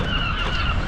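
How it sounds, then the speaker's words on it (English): Seagulls call in the morning over Blackpool town centre, a dense, loud chorus of overlapping cries that runs without a break for the whole moment. "If you love the sound of the seagulls"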